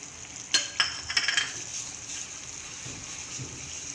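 Apple curry cooking in a pan just after kasuri methi is added, a soft sizzle with a few quick metallic clinks of stirring early on, then a quieter steady simmer.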